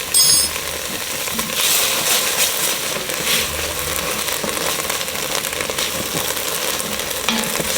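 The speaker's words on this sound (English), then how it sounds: "we're going to go ahead and add some minced garlic" Minced garlic sizzles in a pot for lasagna soup, a loud, steady frying hiss with faint scraping of stirring throughout.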